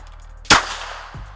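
A single sharp pistol shot, .22LR or 9mm, cracks out close and loud and fades quickly, followed by a faint softer thump.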